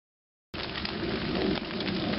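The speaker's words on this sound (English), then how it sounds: "Yep, rain." Steady rain hisses down at a campsite in Afton State Park where someone is hammock camping, a dense continuous wash of drops that starts abruptly after a half second of silence and stays close and even throughout.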